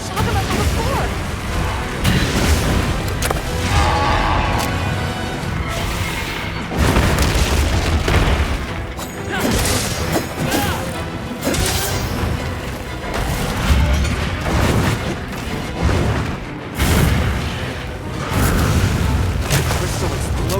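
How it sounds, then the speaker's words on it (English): Booming crystal explosion in Monster Hunter Wilds, heavy low bursts repeating through a loud, dense game soundscape of crashes and roars, with continuous action noise and no clear pauses. "Crystal exploded. It must have been from contact with its breath."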